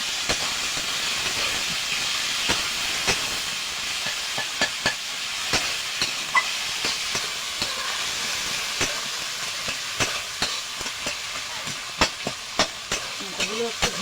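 Green chilies and fish heads fry in a pan with a steady hissing sizzle, broken by frequent sharp crackles and spits that pop up irregularly throughout, close and fairly loud.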